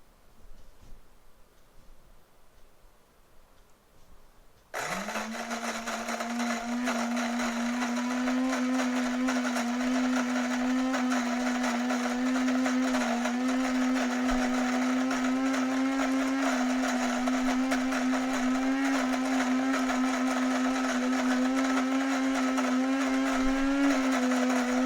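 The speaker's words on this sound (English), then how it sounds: "This little button in the middle of the cup setting is where we start it, and we're going to start it right now." A single-serve coffee maker switches on with a sudden loud motor whine that settles into a steady droning hum as it grinds and starts brewing Death Wish dark roast, after a quiet start.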